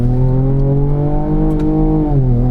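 A 2024 Ford Ranger Raptor with a 10-speed automatic in manual mode accelerates, its engine note loud and close with a steady rising drone and a brief dip near the end.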